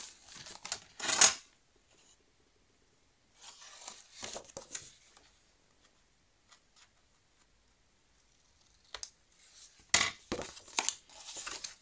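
Scissors snip through paper for a scrapbook album in short, crisp bursts of cutting and crinkling, with quiet pauses between them.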